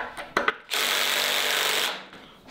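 A cordless drill drives a screw into wood for a beginner blanket ladder project, a couple of short clicks and then a loud, close whirring burst lasting over a second before winding down.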